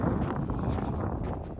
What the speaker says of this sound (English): Right now we just have a nice gentle breeze.